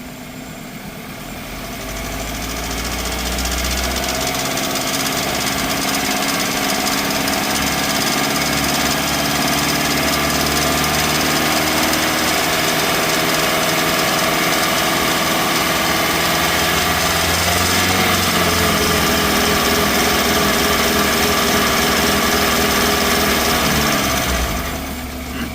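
A car engine idles steadily during a catalytic converter exhaust back pressure test, a loud continuous low rumble that settles after a brief rise and holds evenly until a slight drop at the end.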